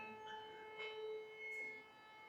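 Noon siren at twelve o'clock, a sustained distant wail holding a steady pitch, fairly faint, with brief background noises over it and no talking.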